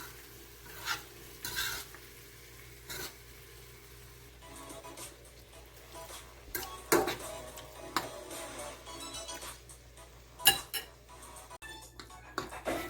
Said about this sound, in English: I'm gonna fold in the ackee with the saltfish. So I'm using a fork